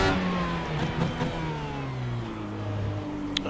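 IndyCar engine in the iRacing sim at Circuit Gilles Villeneuve revving on an out lap, a steady loud engine tone with gear-change pitch steps rising and sliding across the whole stretch, no talk.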